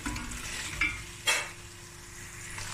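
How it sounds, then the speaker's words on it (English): Tomato paste and meaty beef bones frying in a pot for a Cape Malay tomato bredie, a soft, steady sizzle with a few brief louder stirring scrapes and no speech. "this has fried for about 5 to 6 minutes just to cook through that tomato paste and infuse into the bones, the meaty beef bones."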